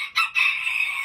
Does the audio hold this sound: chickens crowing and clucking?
yes